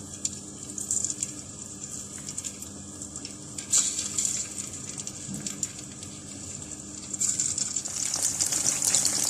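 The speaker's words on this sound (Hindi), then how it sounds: "इस गर्म ऑयल के अंदर हम चिकन के ये क्यूब्स इस तरह से फ्राई करते चले जाएंगे" Chicken cubes frying in hot oil in a kadai, a soft, continuous hiss and crackle sizzling at a low level throughout, with faint stirring clatter and no talk.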